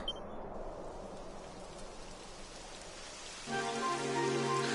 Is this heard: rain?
yes